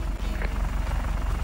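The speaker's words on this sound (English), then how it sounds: "But it's all thanks to this freaking helicopter right in front of me." A helicopter in the video game Just Cause 3 drones steadily with a low, pulsing rotor thump, close and loud, holding an even level throughout without any talking.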